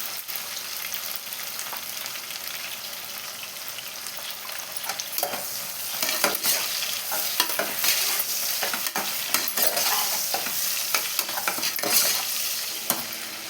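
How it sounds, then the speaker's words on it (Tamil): Salted onions sautéing in a pan for mutton biryani hiss in a loud, constant sizzle, joined by frequent scraping stirs that grow busier partway through. "ஆனியன் சீக்கிரமாக வதங்கிடும்."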